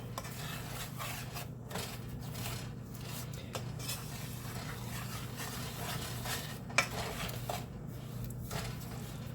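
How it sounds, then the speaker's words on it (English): Maple fudge mixture being stirred in a pot on the stove, with unmelted butter still in it: steady low rumble with repeated soft scraping strokes and an occasional utensil clink, no talking. "we'll be stirring it constantly"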